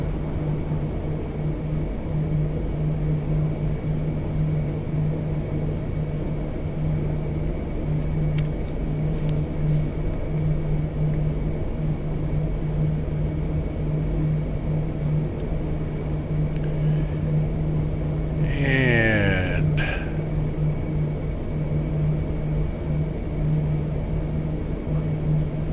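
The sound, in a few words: Lockheed C-130 engines running in X-Plane 12 flight simulator video game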